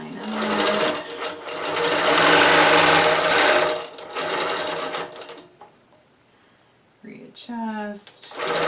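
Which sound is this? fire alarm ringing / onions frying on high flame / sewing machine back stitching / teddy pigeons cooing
sewing machine back stitching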